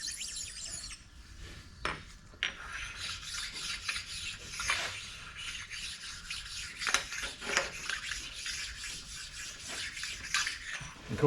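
Flat stones rub back and forth over metal on a Herron K24 lathe during repair work, producing a continuous close scraping rasp with rhythmic strokes and brief pauses.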